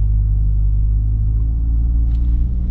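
Engine of a 2020 Chevrolet Corvette C8 pulling gently away from a stop on snow, a loud, steady low rumble, close and continuous, without talking.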